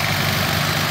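Swaraj 735 FE tractor engine slipping in a muddy field, a loud, steady low rumble with continuous vibration and no talk.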